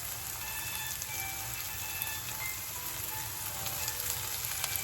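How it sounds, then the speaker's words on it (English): Lo mein noodles tossed into a hot frying mixture in a pan, giving a loud, constant sizzle with crackly spits throughout and no talking over it. "now I'm gonna start adding some of my lo mein noodles to the mixture"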